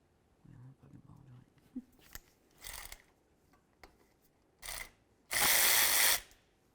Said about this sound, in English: We're going to remove our 10mm headed bolt.